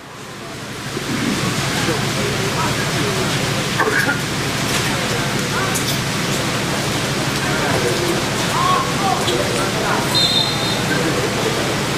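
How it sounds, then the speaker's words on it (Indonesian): Heavy rain pours steadily over a football stadium during a youth match, a constant broadband hiss filling the whole stretch, with faint scattered crowd and pitch noises beneath. "hujan terus mengguyur stadion yang kita bangga-banggakan"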